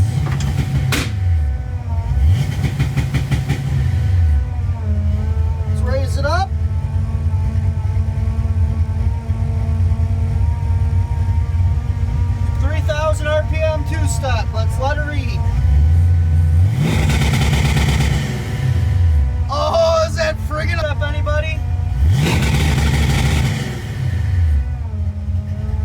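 Car engine held on two-step launch control, popping and revving in repeated loud bursts with crackling limiter stutter between steady idle stretches, close by and without talk.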